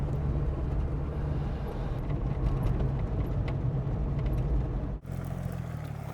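A steady, low engine rumble from a 1967 Jaguar E-Type Series 1 4.2 driving on the road, continuous and fairly loud, with a brief dip near the end before the drone resumes.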